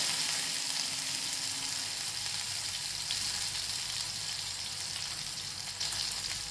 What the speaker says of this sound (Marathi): जिरे चांगले तडतडले की त्याच्यामध्ये हिरव्या मिरच्या टाकून घेते